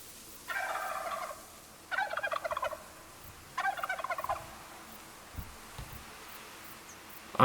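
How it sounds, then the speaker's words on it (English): Wild turkeys gobble in a hunting game set outdoors, three rattling gobble bursts about a second and a half apart, moderately near, followed by soft faint thumps in a quiet backdrop. "I just had 2 birds gobble"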